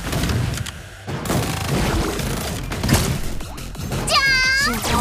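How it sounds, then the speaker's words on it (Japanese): Loud booming bursts and crackling pops of fireworks in the game Blue Archive, with a rising whistle near the end and some background voice. "じゃーん、おつきちゃん特製花火"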